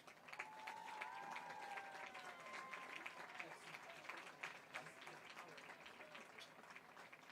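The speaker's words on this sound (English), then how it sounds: "How about a round of applause for all of our candidates?" Distant applause from a high school football homecoming crowd cheering the homecoming candidates, faint and continuous, with whistles and voices mixed into the wash of clapping.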